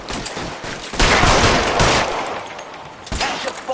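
Gunfire erupts in the L.A. Noire video game, a loud burst of rapid overlapping shots with a sustained volley in the middle and a few sharp cracks toward the end, with no voices.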